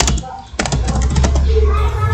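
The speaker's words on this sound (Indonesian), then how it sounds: "saya ketikkan background color" Typing on a computer keyboard while writing HTML and CSS code, a quick string of close key clicks heard under a voice speaking.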